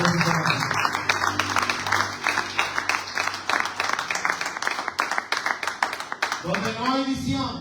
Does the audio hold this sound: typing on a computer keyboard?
no